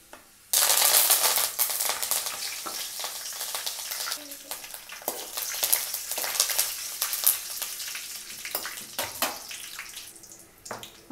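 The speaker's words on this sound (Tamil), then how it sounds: "அப்புறம் இது பொரிஞ்சிட்ருக்கும் போதே நம்ம கருவேப்பிலையை சேர்த்துக்கலாம்" Garlic and curry leaves fry in hot oil on a stove, a dense, steady crackling sizzle that starts abruptly and stays loud throughout, with occasional sharper pops and stirring sounds.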